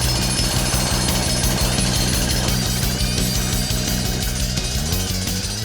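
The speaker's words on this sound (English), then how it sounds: "So we're not only breaking up the concrete, we're digging." A jackhammer breaks up the concrete floor in a basement corner, hammering loud and close in a dense, continuous mechanical rattle that runs for the whole stretch without any voices.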